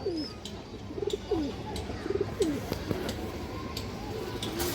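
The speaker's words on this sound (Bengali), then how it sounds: "দুটো কবুতর কিন্তু খুব সুন্দর" Domestic pigeons on a farm coo softly in repeated rolling phrases, several calls spaced about a second apart, with light clicks and faint background noise.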